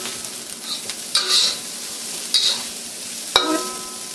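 Red pepper stir-frying in a hot wok, with a constant soft sizzle broken by several sharp bursts of loud hissing and scraping as the food is tossed, and a metallic clink near the end.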